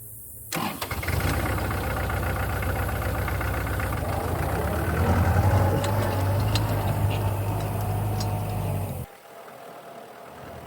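A tractor engine starts with a sharp crank, then settles into a steady, close, rumbling idle for several seconds before cutting off abruptly.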